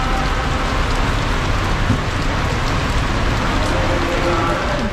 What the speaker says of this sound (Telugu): ఇంకా చిన్న చినుకులు పడుతున్నాయి